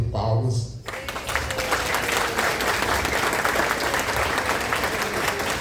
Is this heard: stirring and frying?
no